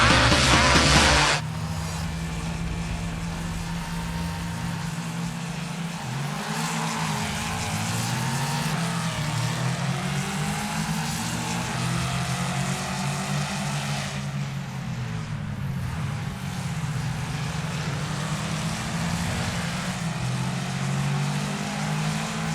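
A Ford Mustang race car engine in the Assetto Corsa racing game drones loudly and continuously, rising and falling in pitch through gear changes and corners, alone without talk.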